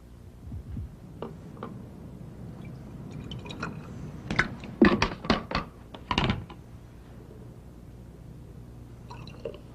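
Small fizzing and popping bubbles from a chemical reaction in a lab vessel, quiet at first, then a cluster of sharper pops and bursts in the middle before settling back to a faint hiss.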